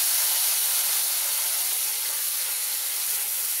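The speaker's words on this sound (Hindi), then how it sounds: "अब ये जो मैंने मसाला पीस कर लेकर आई थी वो हम इसमें डालेंगे।" Ground masala paste hits hot oil in a pan with whole spices for a matar mushroom gravy, giving a loud, continuous close hiss and sizzle that holds steady throughout.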